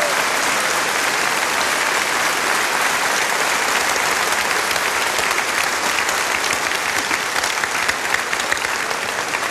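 A large studio audience at a televised folk music show claps loudly and continuously, a thick, unbroken roar of applause throughout.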